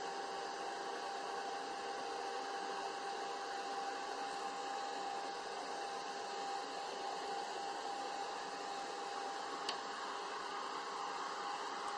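A heat embossing gun blows with a steady, even whoosh that holds without a break, close and fairly quiet.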